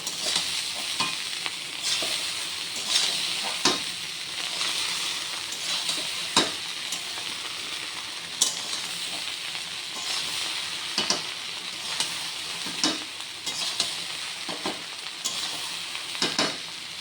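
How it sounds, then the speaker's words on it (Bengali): Fried rice with sugar just added is stirred in a hot pan, giving a continuous sizzle under scraping spoon strokes and occasional sharper clinks, close and steady. "চিনি দিয়ে দিলাম। এখন আমি ভালো করে নেড়ে চেড়ে নামিয়ে নেব।"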